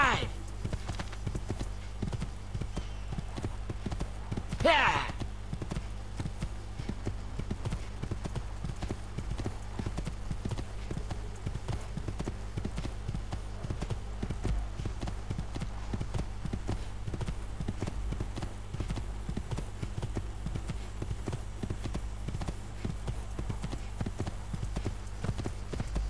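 Horse hooves clip-clopping steadily at a walking pace in the video game Assassin's Creed 2, a continuous even rhythm running throughout, with a brief whoosh early on and speech over it.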